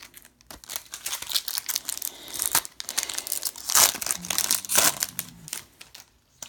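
A Yu-Gi-Oh booster pack wrapper crinkles and tears open close up, with bursts of crackly, papery foil rustling, a louder rip near the end, and no voices.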